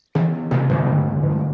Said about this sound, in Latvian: Tas bija pērkons, Pepa.